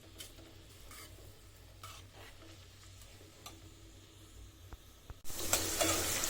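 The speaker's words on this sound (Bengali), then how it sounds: "আগে পেঁয়াজ, রসুন, কাঁচামরিচ ভালোভাবে তেলে ভেজে ফেলি" Onion, garlic and green chili fry in oil with a quiet, even sizzle and scattered ticks and scrapes of stirring, then a sudden louder burst of hissing near the end.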